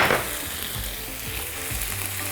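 Pieces of meat for burrito filling fry in a hot pan with a loud, even crackling sizzle, heard close and alone over a couple of seconds.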